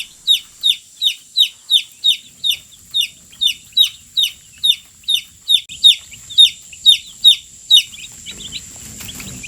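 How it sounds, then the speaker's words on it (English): Young chicks in a box, settling in under a heat light after drinking water, peep rapidly and steadily in a close, high-pitched series that fades near the end. "I removed each bird out of the box and dipped their beaks into the water, and they're all settling in nicely"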